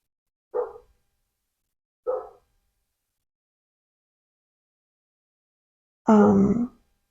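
A dog gives two short, muffled barks a second or so apart, then after a pause lets out one longer, louder bark.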